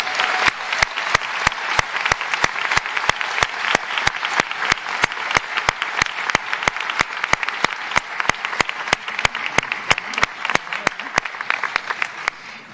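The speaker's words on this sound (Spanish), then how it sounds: "Un fuerte aplauso para Javier y para su grupo." A theatre audience at a jota folk music festival in Elche claps loudly and continuously, a dense, even applause with no talk over it, fading slightly at the very end.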